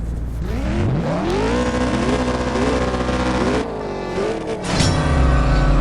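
A Mustang's engine revs up through rising gear-shift sweeps with a nitrous boost in CSR Racing 2, loud and close with a resonant, climbing tone and brief drops between shifts, no talking.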